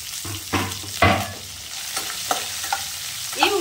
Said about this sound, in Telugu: గ్యాస్ని మిడిల్లో పెట్టి ఉల్లిపాయని వేయించుకోవాలి